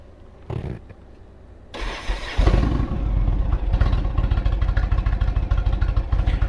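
An Indian Chieftain motorcycle with a stock cam and a stage 1 slip-on Indian performance exhaust with six-shooter tips. It cranks in short bursts, catches, then settles into a loud, close, rapidly pulsing idle.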